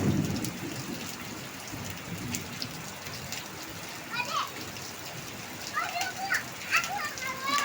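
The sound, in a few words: heavy rain pouring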